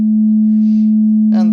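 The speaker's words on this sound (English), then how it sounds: "to the sine wave oscillator" A synthesizer plugin's sine wave oscillator holds one pure, steady, loud tone, joined by a faint higher partial, before a short buzzy burst of harmonics cuts in at the very end.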